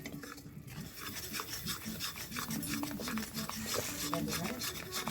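A spoon stirs sugar and water in a pan, caramelizing it for a sweet-and-sour Bengali yogurt, with quiet, repeated rubbing and scraping strokes against the pan bottom in a steady rhythm.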